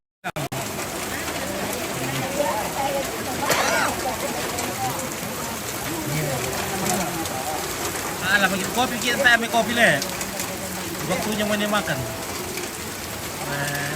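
Heavy rain pours steadily on surfaces at a Toraja traditional gathering by a tongkonan, a dense continuous hiss with scattered drips, while people talk over it.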